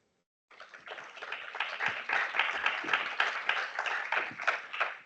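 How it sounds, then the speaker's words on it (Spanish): A conference audience at an international quality conference breaks into applause after a moment of silence, a dense burst of clapping from a seated crowd that swells and stays steady. "Por favor, recibimos con un fuerte aplauso."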